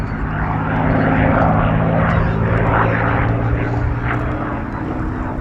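A P-51 Mustang's piston engine and propeller droning loudly through an aerobatic pass at the Geneseo air show, a rough, throbbing steady roar with a commentator talking beneath.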